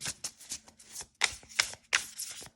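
Crisp riffling bursts of a card deck being shuffled, several quick ruffles in a row, close and fairly quiet with short pauses between.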